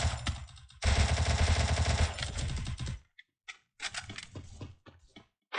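Rapid automatic gunfire in the video game Free Fire, a dense burst for about two seconds, then scattered shorter volleys with gaps, loud and close.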